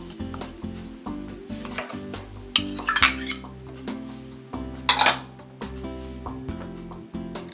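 Christmas pasta being mixed with olive oil, walnuts and crispy bacon: a utensil clinks and scrapes against the bowl in steady stirring, with two louder clattering bursts, close and without talk.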